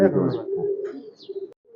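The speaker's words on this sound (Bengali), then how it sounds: "এখানে চারটা বাচ্চা কবুতর আর কি দেখতে পাচ্ছি আমরা" Red-necked pigeons and their young cooing inside a loft, a few soft, close coos with faint chirps and low fluttering underneath, no talk.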